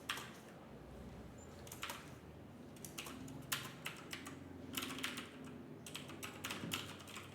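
Code being typed on a computer keyboard during a programming lesson, quiet bursts of rapid clicking keystrokes with short pauses between them, close and alone.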